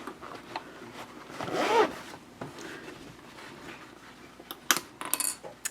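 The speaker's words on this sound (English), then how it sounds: "I think I have to move my zipper tab," Zipper pull slid along a zipper on a sewn messenger handbag, a short faint rasp near the middle followed later by a few light clicks and taps, close and quiet, no talking.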